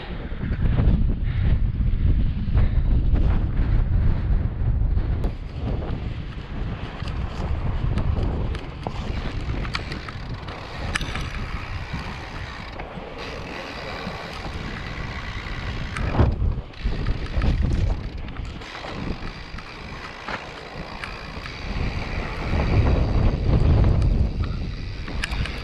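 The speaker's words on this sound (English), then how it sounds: "Nice little headwind heading down the canyon here from the airstrip." Winter headwind blowing down Devil's Canyon near San Rafael Knob, a loud, buffeting rush of air that roars over the microphone throughout, swelling and easing in gusts.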